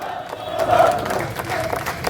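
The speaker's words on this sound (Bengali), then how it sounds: "সবাই একটু তালি দেন" A crowd claps and cheers at an outdoor Teesta river protest march by the Rangpur Press Club, loud and dense throughout a short burst with voices mixed into the noise.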